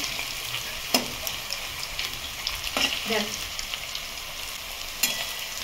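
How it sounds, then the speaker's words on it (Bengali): Steady sizzling of cauliflower pakoras deep frying in white oil, a soft constant crackle with a few sharper pops, quiet and close, no talking. "এই যে পকোড়া ভাজা হয়ে গেল, এবার তুলে নেবো"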